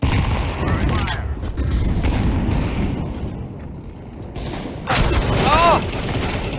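A shooter video game battle brings booming grenade blasts and scattered gunfire, with a loud explosion near the end, all heavy and close over a continuous rumbling din.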